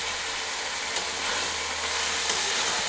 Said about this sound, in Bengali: এবারে ভালো করে মশলাটা মিশিয়ে নিচ্ছি